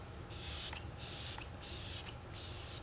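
Makeup setting spray misted in four short, even bursts, each a bright hiss with brief pauses between, close and fairly loud over a quiet room.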